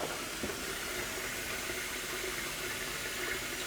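Water runs steadily from the tap of an RV on-demand water heater, a constant close hiss and splash with no pauses and no one talking.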